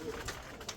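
Pigeons coo softly in a brief, faint burst among low background noise, likely while the birds are eating ground feed.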